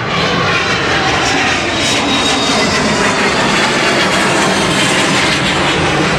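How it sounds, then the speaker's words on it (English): A private plane passes overhead near a sailboat, its engine a loud, steady, broadband roar that fills the whole stretch without letup. "Is that a private plane?"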